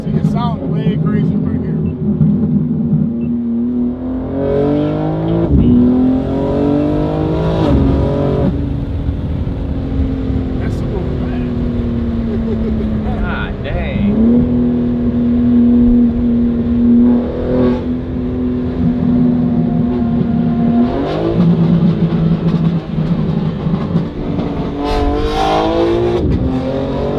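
A BMW G80 M3 engine drones steadily inside the car, its pitch climbing and dropping through several rises and shifts, loud and continuous throughout without pause.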